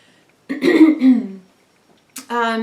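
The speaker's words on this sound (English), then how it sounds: "I'm really clearing my throat" A short, rough throat clearing, followed after a pause by a brief voiced sound, close and fairly loud against silence.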